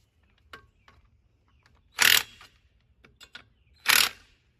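Two bursts of a wrench or ratchet snugging wheel lug nuts after a flat tire, close and fairly loud, with faint metallic clicks and taps between them and no talk.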